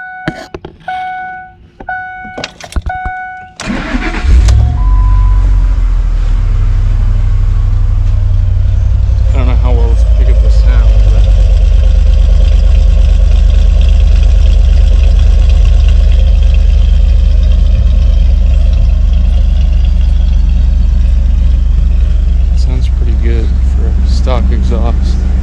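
A few brief clicks, then a Lincoln Navigator's 5.4 4-valve engine cranks and catches, settling into a loud, steady idle that rumbles on without letup.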